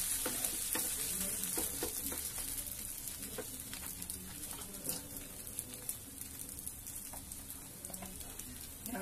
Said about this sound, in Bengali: একদম কম আঁচে ভাজা ভাজা করতে হবে।